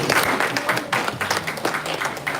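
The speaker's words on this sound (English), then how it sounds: "Can we have another round of applause?" Audience applause at a public health conservation gathering, a steady broadband patter of many hands clapping close by for a couple of seconds.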